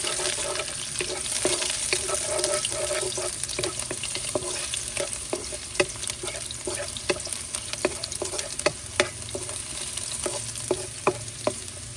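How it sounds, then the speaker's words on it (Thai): Garlic fries in a pan for a Thai basil steak stir-fry, giving a continuous sizzle and hiss broken by regular scraping taps of a spatula, louder toward the end. "ใส่กระเทียมลงผัดให้หอมก่อนนะครับ"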